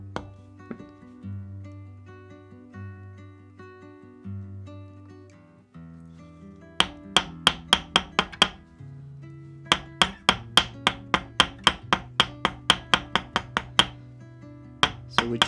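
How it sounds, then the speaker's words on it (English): A nylon hammer strikes a nylon base in a rapid series of sharp, close knocks, starting sparse and then coming in quick repeated bursts over a low background hum. "here I have this nylon base that I can use with this nylon hammer or mallet"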